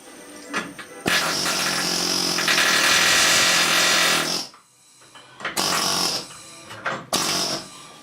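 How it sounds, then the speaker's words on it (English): Loud, dense rattling bursts of a pneumatic air hammer chiseling the rear frame of a Jeep TJ, one long run of about three seconds followed by two shorter bursts separated by brief pauses. "You know what I forgot I had? Air hammer, air chisel."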